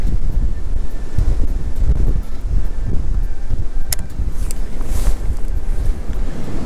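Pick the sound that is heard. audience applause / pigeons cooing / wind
wind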